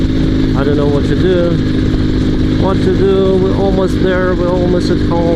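A Dnepr sidecar motorcycle engine runs steadily off road with its revs sagging and wavering, loud and close, while someone talks over it.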